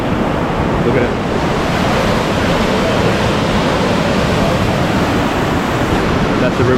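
A fast-rising river rushes through the world's largest cave, making a loud, steady, broadband roar of churning water that holds at a constant level throughout, with no breaks.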